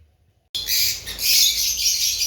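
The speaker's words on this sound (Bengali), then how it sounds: "পাখি তো খুবই চেঁচামেচি করতেছে কলোনিতে" Lovebirds in a bird colony break into loud, dense chattering after a brief silence, a constant high chirping and squawking that swells and holds steady.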